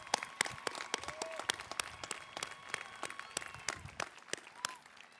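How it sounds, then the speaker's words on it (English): Audience applause at a high school graduation ceremony, a scattered crowd of individual claps sounding moderately distant and fairly sparse, with small bursts of louder hand claps throughout. "a round of applause."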